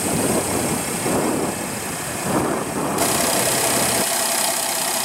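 A 2016 Porsche Cayenne's 3.6 L V6 idles with a steady, even rumble, heard close and continuous throughout with no voices.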